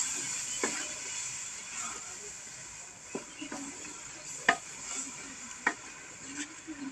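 Potatoes and carrots frying with turmeric, salt and red chilli give a quiet, low sizzle, broken by several sharp spoon-against-pan clicks and scrapes as they are stirred.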